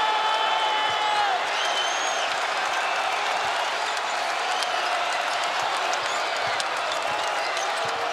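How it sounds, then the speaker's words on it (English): A basketball arena crowd in a Saint Louis versus VCU game cheers and applauds in a loud, sustained roar, with whistles and shouts rising from the packed stands throughout. "Crowd's back in it, none for Baldwin."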